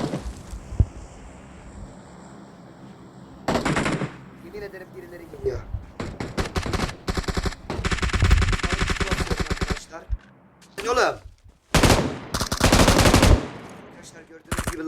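Bursts of automatic gunfire from the PUBG battle royale game crack out in several loud volleys, some rapid and sustained, mixed with single shots while players talk excitedly over the action.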